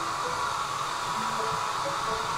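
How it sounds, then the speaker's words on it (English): Steady whooshing drone of a hair dryer blowing continuously at moderate volume, with faint background hum. "And now Maura can do the hairdryer test again."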